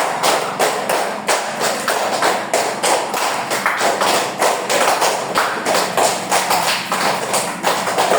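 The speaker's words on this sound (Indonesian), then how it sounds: "Tepuk 5 kali." A group of people clap their hands together in a classroom coding lesson, sharp repeated claps in a steady rhythm across the whole stretch, close and fairly loud, no talking over them.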